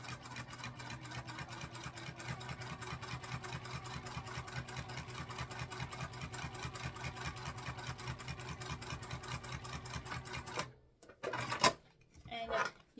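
A home sewing machine runs a second, parallel line of stitching across a fabric sling bag, humming in a fast steady rhythm for about ten seconds before stopping, then a few brief handling clatters follow.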